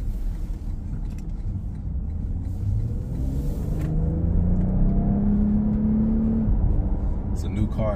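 A 2023 Lexus ES 350 F Sport in sport mode gives a low engine rumble that climbs in pitch as it accelerates from inside the cabin, with a speaker talking over it.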